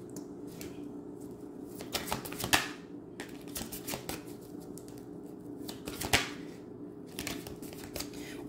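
A tarot card is drawn from the deck during a reading, giving soft papery shuffles and a few sharper card snaps spread over several seconds against a low steady hum, with no talking.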